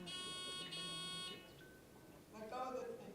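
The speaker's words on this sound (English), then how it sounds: "test buzzers" Quiz buzzers at a middle school knowledge bowl sound in turn during testing: a steady harmonic buzz, then a second, higher tone after a brief pause, with faint voices in the background.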